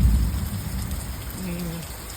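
Rain falling during an outdoor storm, a steady close hiss of drops on surfaces with a low rumble at the start, brief and continuous with a faint murmur partway through.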